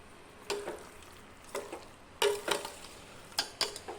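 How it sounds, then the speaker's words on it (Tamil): Duck curry meat sautéing with masala in a pan for an idli side dish gives a low sizzle, broken by several bursts of spoon-on-pan stirring and scraping, close and fairly quiet. "இந்த மசாலாவோடு சேர்ந்து இந்த கறி நல்லா வதங்கி வரட்டும் கொஞ்ச நேரம்."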